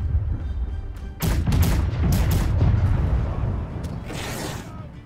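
Ship cannons boom repeatedly in a naval battle in the game Blackwake, several heavy blasts spaced irregularly over a rumbling background of battle noise, some close and loud, others trailing off.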